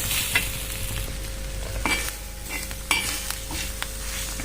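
Crushed peanuts are stirred into onion chutney frying in a pan, a steady sizzle broken by a few sharp scrapes and clinks of the spoon against the pan, close and fairly loud, with no talking.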